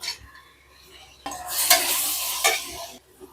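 Onions and tomatoes sautéing in a pan for a Malabar-style chicken curry with brinjal and potato: steady sizzling frying with a utensil stirring and scraping close by, growing louder in the middle and then easing off, with no voices.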